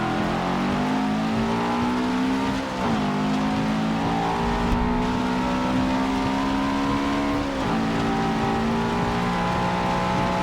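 Race car engines in Forza Motorsport 7 roar loud and steady on a wet track, with high revving tones rising through the gears and brief dips at shifts, continuous and close.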